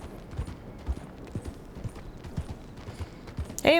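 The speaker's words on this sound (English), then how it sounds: "I'm just riding my horse down the road." A horse's hooves clip-clop at a steady walking rhythm along a road in the video game Red Dead Redemption 2, close and distinct, ending with a short whinny-like sound.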